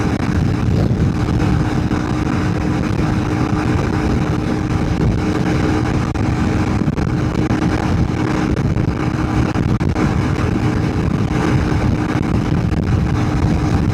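Big-bore Honda CRF300L Rally motorcycle held at full throttle while climbing a hill into a headwind at highway speed, a steady dense engine drone mixed with heavy wind roar, continuous and loud throughout.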